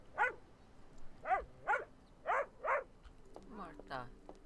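A dog in the video game Memoranda barks five times in a steady, close run of sharp yelps, then gives a softer whining, whimpering sound near the end.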